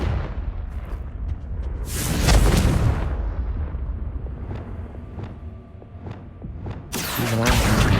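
The Confringo spell exploding in Hogwarts Legacy: two loud, roaring blasts, one early and one at the end, with faint ticking game sounds in the quieter stretch between them.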